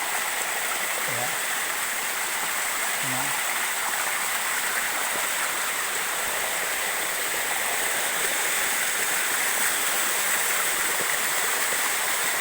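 A waterfall at a fishpond pours with a constant, even rush of falling water heard close by, and a few brief faint sounds sit low beneath it.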